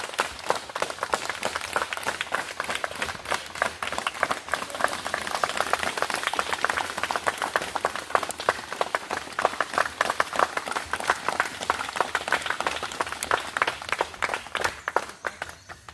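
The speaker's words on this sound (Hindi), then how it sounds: "चलिए अभी ताली मारिए" A group claps together at an outdoor International Yoga Day session, a dense, steady patter of many hands that runs for the whole stretch at a moderate level, with some scattered voices underneath.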